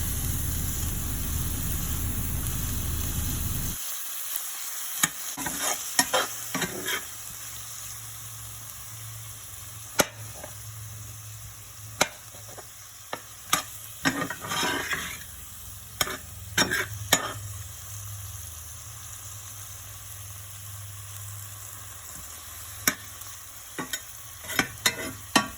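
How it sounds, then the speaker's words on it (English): Peppers sauté over medium heat for beef enchiladas, a soft steady sizzle punctuated by repeated sharp scrapes and knocks of a spoon stirring the pan, close and unaccompanied by talk. "we like to use peppers for most of our dishes. So you don't have to put that in if you don't want to. We're going to saute this on a medium heat."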